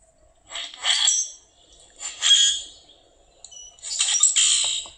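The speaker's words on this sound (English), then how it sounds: "a very non-musical bunch of squawks and rattles and squeaks is typical of blackbirds, in particular this grackle" Common grackle calling in three separate bursts of harsh, unmusical squawks, rattles and squeaks, fairly close and clear against a quiet background.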